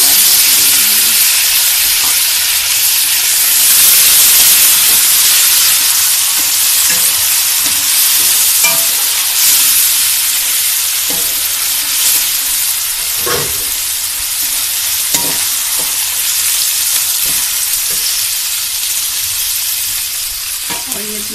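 Green peas for matar pulao hiss loudly in a hot pan, a dense close sizzle with occasional stirring clinks and scrapes and no speech throughout.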